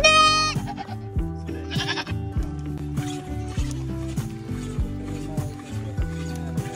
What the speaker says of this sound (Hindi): यही वो बकरियाँ हैं यार।